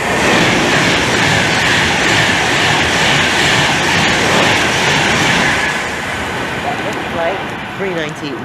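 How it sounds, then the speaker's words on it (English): A passenger train from Glasgow Central to London Euston roars past close by on the West Coast Main Line at Milton Keynes Central, a loud sustained rush with rhythmic wheel clatter that eases slightly near the end. "now passing through is 1 Mike 12, the 1536 pass from Glasgow Central to London Euston"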